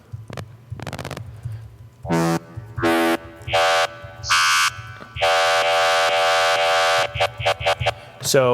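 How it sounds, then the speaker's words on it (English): A bright retro synthesizer from Logic stock plug-ins plays a string of sustained, buzzy notes with a wavering vibrato, some short and some held, loud and up front over a low hum. "this is the retro synth"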